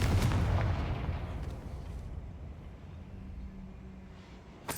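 A Confringo blasting spell explodes in Hogwarts Legacy, a loud booming burst at the start that rolls off into a long, fading rumble with no voices.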